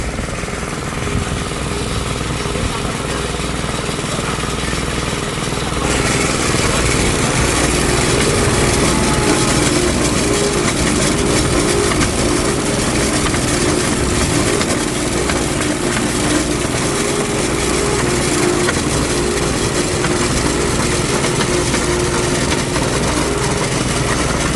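A deep water-well drilling rig in the Philippines runs steadily for the whole stretch, a loud, dense, unbroken mechanical roar and clatter with a low engine drone beneath and no talk.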